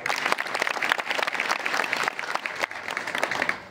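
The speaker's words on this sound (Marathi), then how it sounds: "मग याच्यासाठी एकदा पुन्हा डबल टाळ्या." Dense audience applause at a Marathi devotional kirtan gathering, a steady wash of many hands clapping continuously and fairly close for the whole stretch, with no clear voice above it.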